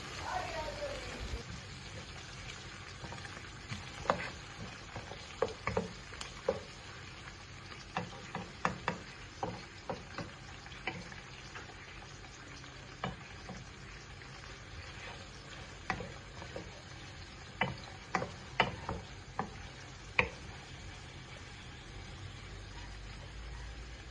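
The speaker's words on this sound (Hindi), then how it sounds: "प्याज़ों को अब मैं लाइट ब्राउन कर लूँगा" Chopped onions, two of them, frying in oil until light brown for a spiced taro (arbi) masala, giving a steady low sizzle with scattered clicks and spoon taps throughout.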